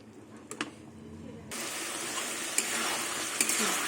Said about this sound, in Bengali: জল দিয়ে দিয়ে আলু মটরশুঁটি একটু কষিয়ে নেবো ভালো করে